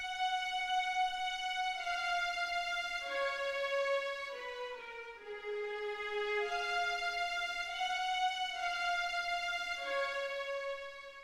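SRX synth strings in FL Studio play a sustained, rich chord progression of smooth, bright string-like tones that glide between chords, loud and alone with no other sounds.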